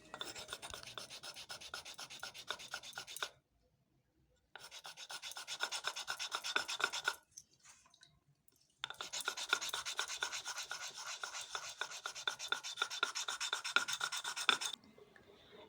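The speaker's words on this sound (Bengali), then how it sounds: "চন্দনটা আমি বেটে নিই" Sandalwood being ground into paste on a stone for a puja, a loud rapid rasping rub repeated in long bursts separated by short silent pauses, close up with no talk.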